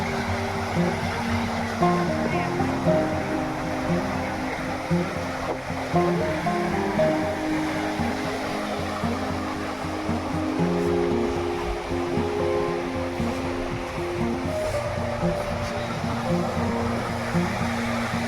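Sea waves at Bakkhali beach washing steadily onto the shore as the tide rises, a continuous moderate surf roar with no talking.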